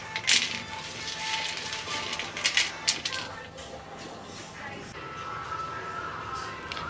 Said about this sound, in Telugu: ఈ విధంగా పల్లీలను పొట్టు వలుచుకోవాలి అన్నీ